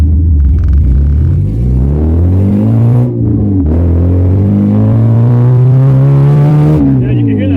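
A 2004 Honda Civic with a swapped K24 engine and exhaust crossover revs hard, loud and close, the pitch climbing and falling through several rising pulls with a raspy exhaust tone.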